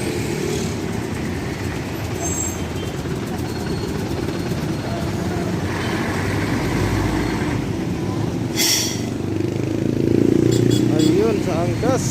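An Angkas motorcycle taxi engine idles steadily nearby on a busy street, a continuous low rumble with traffic around and voices talking over it.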